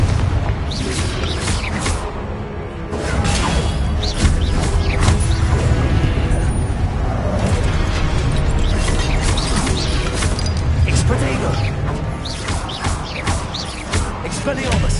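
Fiery blasting spells from Hogwarts Legacy go off in dense, overlapping booms and crashes over a continuous loud wash of combat noise, with shouted spell calls mixed in.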